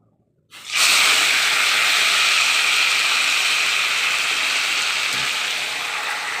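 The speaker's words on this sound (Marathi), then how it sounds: "तर बघा जिरे मोहरी टाकले फोडणीला" Cumin and mustard seeds hit hot oil for tempering a moong dal vegetable dish, bursting into a loud, close hiss of sizzling that starts suddenly and keeps going steadily, with no talking.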